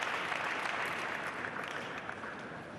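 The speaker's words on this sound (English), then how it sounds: "Applause from his Portuguese teammates." Steady applause from a crowd at a table tennis men's singles final, clapping continuously and fading slightly toward the end.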